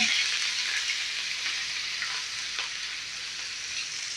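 Asafoetida and curry leaves sizzle steadily in hot tempering oil for an idada or white dhokla: a dense, even hiss that stays loud and close from start to finish, with no voices.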